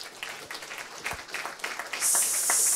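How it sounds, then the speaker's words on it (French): An audience applauds a restaurateur at a regional restaurateurs' event, a scattered patter of clapping that thickens into a dense, steady roar of applause. "On peut l'applaudir."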